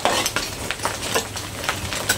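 Green beans and egg frying in a pan, soft sizzling broken by rhythmic scrapes and clinks of a utensil stirring against the metal, close and steady.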